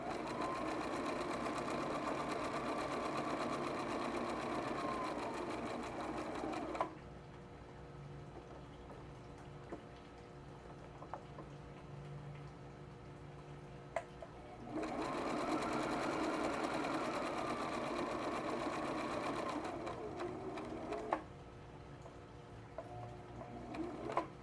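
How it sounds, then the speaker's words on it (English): Sewing machine stitching a drawstring pouch, running in long steady whirring bursts separated by brief pauses with soft clicks, close and prominent, with no voices. "We're going to go around one more time, make a double stitch."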